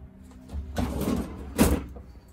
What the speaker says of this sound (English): let me show you some more of these drawers